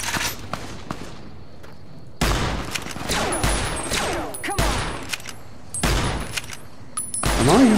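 Rapid bursts of gunfire in the video game Fallout New Vegas crack out in clustered volleys with short gaps between them, loud and close.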